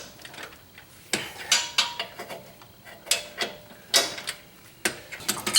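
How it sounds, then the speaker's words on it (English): Long torque wrench loosening 22 mm bushing bolts on a Jeep JK, a string of sharp metallic clicks and clanks in irregular bursts, close and fairly quiet with no talking. "I'm pulling off the longer torque wrench to loosen these up"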